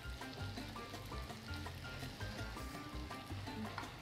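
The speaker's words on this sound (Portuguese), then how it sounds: "Ó, um pouquinho aqui da água do cozimento." Pasta cooking water poured into a carbonara pan sizzles and crackles continuously, with faint background voices and clinking nearby.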